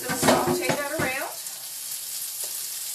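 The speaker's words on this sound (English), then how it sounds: "And we're going to put the asparagus in there. And we're just going to saute that around." Asparagus sautéing in a hot pan, a loud sizzle with stirring that lasts about a second and then falls away to a faint background hiss.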